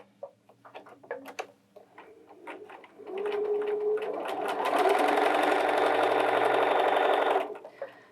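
A Bernina 325/335 sewing machine stitches a straight line: a few soft clicks and taps first, then a steady, rapid mechanical whir of needle strokes for several seconds before stopping.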